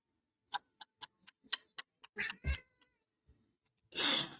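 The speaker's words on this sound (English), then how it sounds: "I heard the cat meowing too." A house cat meows near a TV, giving a series of short, sharp vocal bursts and then one louder, longer cry, with quiet gaps between.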